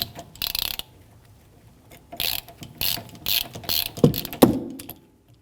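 A ratchet wrench clicks in quick bursts while loosening a rear brake caliper bolt on a 2013-2019 Ford Police Interceptor Utility, several close sets of sharp pawl ticks separated by short pauses and a couple of metallic knocks.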